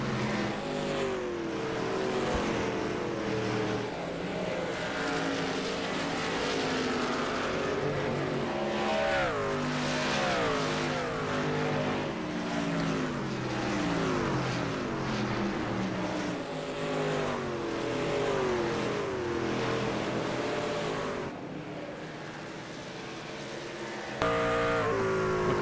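Racing trucks' engines drone in a sim-racing game at Phoenix, several engines blending into a loud, continuous whine. The pitch swells and sweeps as the trucks run close together, then briefly dips near the end.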